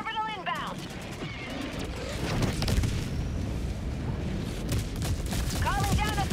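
Orbital strike explosions in the Helldivers 2 video game rumble as a dense, continuous barrage of booms and blasts, with radio-style voices briefly heard at the start and end.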